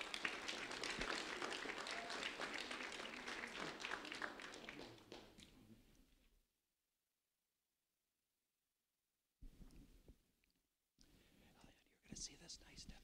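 An audience at a sheriff's office award ceremony claps for an honoree, a soft, fairly distant patter that fades out over about six seconds, followed by silence and a few brief low noises.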